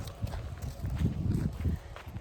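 Horse hooves clip-clop at a horse farm in a short run of soft, fairly close steps, with a little background noise and no clear talk.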